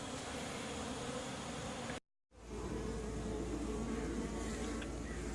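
Honeybees swarm and buzz around a box of wet honey frames left out in a backyard after robbing, a dense, steady close drone that cuts out briefly before resuming.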